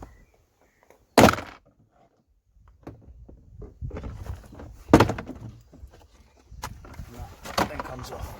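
Three sharp plastic snaps as a Ford Fusion door card pops off its clips, each a loud, close, abrupt crack spaced a few seconds apart, with quieter rustling and handling noise between.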